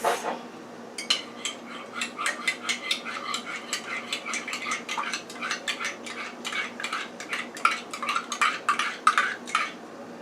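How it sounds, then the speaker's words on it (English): Whisk or spoon rapidly clinking against a bowl while olive oil and vinegar dressing is mixed, a quick run of bright metallic taps close by with no talking. "now I have 1/2 cup of the olive oil and the vinegar mixed. Let me give that a mix."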